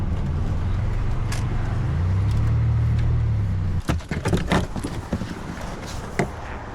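A car drives along the Redwood Forest Highway in Oregon with a steady low road rumble, then a run of clattering knocks and bumps near the microphone over the engine noise.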